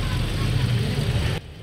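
A Toyota Vios Dual VVT-i engine idles with a vibrating, uneven rumble after being fuelled with diesel, a steady close low drone that drops off sharply near the end.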